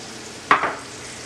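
Olive oil going into a hot pan while cooking shrimp linguine makes one brief sharp sizzling burst over a low steady hiss, then settles back.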